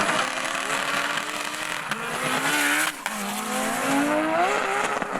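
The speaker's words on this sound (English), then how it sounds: "Still plenty of wheel spin on the MR2" A K-Series-powered Toyota MR2 drag racing on a runway, engine screaming loud and close with rising pitch through gear changes while the wheels spin, one brief shift break midway.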